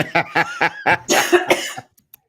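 A person coughs in a rough cluster of bursts after a few throaty, voiced sounds, close and fairly loud, then trails off into near silence with a couple of tiny clicks.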